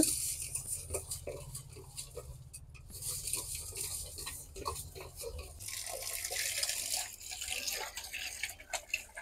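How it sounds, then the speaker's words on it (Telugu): Jella fish pieces from the Krishna river being washed with salt and water, a steady close splashing and trickling of water with small drips, no voices. "నీళ్ళు వేసి కడుగుతున్నారండి ఫస్ట్"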